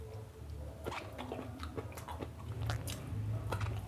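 Close, wet chewing and crunching as a whole green chili pepper from a pot of adobong paksiw is bitten and eaten, with soft squishy bites repeating over a few seconds and no speech.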